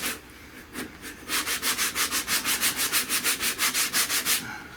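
80-grit sandpaper scrubbing a rusted car quarter panel, first a few loose strokes, then a quick, even run of about twenty rasping back-and-forth passes, close and loud, easing off at the end with no voices.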